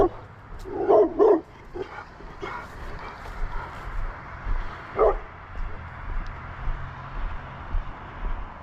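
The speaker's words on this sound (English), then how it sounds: "See if this dog is out here today." A dog behind a gate along a Maine walking route barks in a few short bursts, the loudest early on and another a few seconds later, set against outdoor ambience while a person speaks to it.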